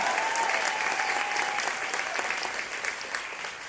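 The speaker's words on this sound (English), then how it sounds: "can we please give them a huge round of applause?" Applause from a theater audience at a high school fashion show fills the moment, a dense, steady clatter of many hands that fades slightly toward the end.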